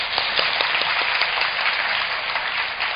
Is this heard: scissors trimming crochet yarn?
no